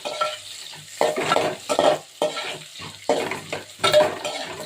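Onion and grated coconut frying in oil with chana dal and dried red chilies crackle under repeated spoon strokes against the pan, a close, rhythmic scrape-and-sizzle pattern roughly once a second with short pauses between.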